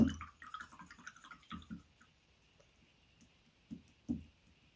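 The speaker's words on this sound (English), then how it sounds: "So we're going to wash our brush." A paintbrush swished and tapped in a pot of water while painting wooden circles, giving soft drips and light clicking knocks in short bursts, quiet and close, with no talking.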